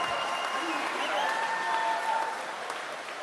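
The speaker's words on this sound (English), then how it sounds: "That applause is so funny." Town hall audience applauding, a steady broad wash of clapping with some cheering and voices mixed in, sustained and fairly even throughout.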